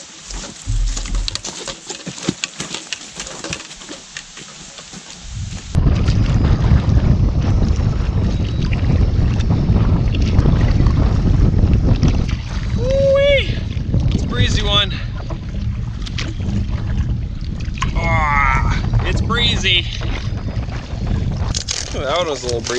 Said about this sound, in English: Was a little breezy.